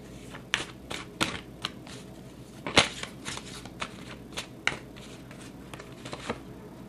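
Tarot cards are shuffled and drawn close by. Irregular crisp flicks and slaps of card stock sound over a quiet background, with no voice.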